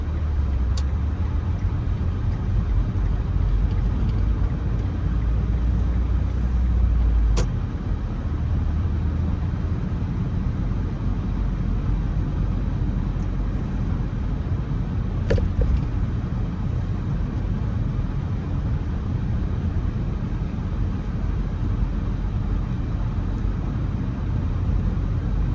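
A car drives slowly through a quiet residential neighborhood of large lawns in Shepherd Hills, Nashville, Tennessee, making a left turn, with steady low engine and road rumble throughout and a couple of brief clicks.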